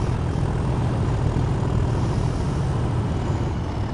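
A loud, steady Class 37 diesel locomotive engine roar in Train Sim World 2, with a deep, throbbing low end, running continuously at full throttle throughout.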